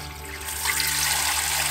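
Water from a WolfWise battery camping shower pump sprays steadily, with a low motor hum underneath and the rush of water growing louder partway through.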